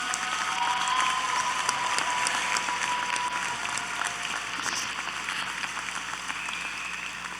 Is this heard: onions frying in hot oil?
no